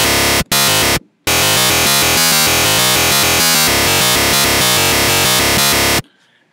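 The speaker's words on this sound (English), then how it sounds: "We're going to throw on a scream distortion unit, go to warp distortion." Electro synth lead pushed through scream and warp distortion, a loud, harsh, buzzing line of rapid choppy notes with brief gaps near the start, played alone.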